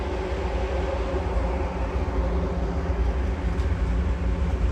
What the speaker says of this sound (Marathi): हे बघा अशा ट्रेन्स आहेत तिथं